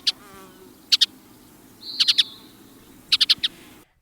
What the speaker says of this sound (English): That's right, the western bluebird,